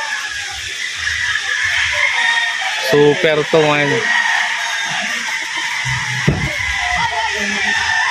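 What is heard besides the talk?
gamecock rooster crowing and clucking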